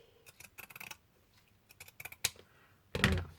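Scissors cutting thread or fabric while a Christmas-themed spool is being made, several quick crisp snips in short bursts, then a louder rustling cut at the end, close and quiet with no talk.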